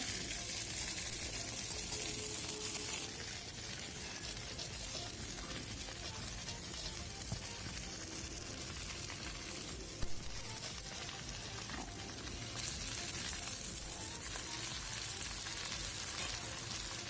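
Broad beans and potatoes fry in a pan, a steady close sizzle and crackle throughout with occasional stirring clatter, one sharper knock midway.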